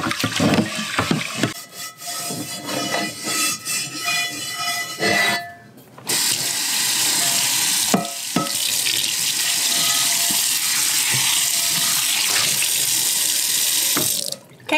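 A dirty Wagner cast iron pan is scrubbed under a running tap. The water rushes loud and steady the whole time, with clanks and scraping against the metal and a brief lull before the flow resumes.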